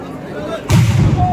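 At the Thrissur Pooram festival a fireworks display sends out a sudden heavy boom that breaks over a noisy crowd and rolls on as a deep rumble, loud and fairly near, with voices around.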